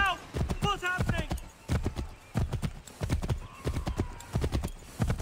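Rhythmic hoofbeats of a galloping horse in Assassin's Creed 3 with a whinny early on, loud and steady, while voices talk over the pounding.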